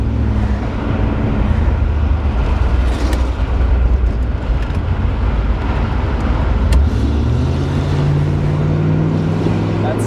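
A 1988 Chevrolet Camaro Z28 IROC with its 5.7L V8 roars loud and close, a continuous deep rumble that swells and drops pitch near the end as the engine note shifts, filling the whole stretch.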